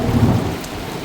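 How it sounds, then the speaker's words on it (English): A thunderstorm with heavy rain and hail: a low rumble of thunder rolls briefly over a constant, loud hiss of rain pounding on surfaces. "lots of thunder and lightning."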